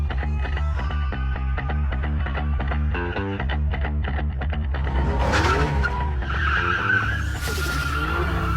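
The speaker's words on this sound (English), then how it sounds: "she yanked the handbrake and pulled off a high-level drift" A car drifts after a sharp handbrake pull, its engine revving in pulsing bursts before tires break into a loud, sustained skidding squeal, all close and intense.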